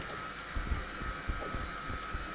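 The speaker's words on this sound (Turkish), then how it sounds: "Süpürgeden hiçbir şey duyamıyorum ki ben." A vacuum cleaner runs in a room as a steady, faint whining drone with a constant high tone, accompanied by light thumps and no clear speech.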